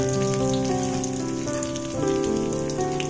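Sliced garlic and shallots sauté in a pan with a steady, soft hiss of sizzling oil, set against a sustained tonal hum that runs through the whole moment.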